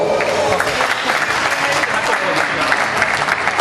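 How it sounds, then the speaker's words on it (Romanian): A crowd at a 2012 drift competition prize-giving gives a competitor a steady round of applause, dense even clapping from many hands that holds at full strength for several seconds. "Aplauze și pentru el, vă rog."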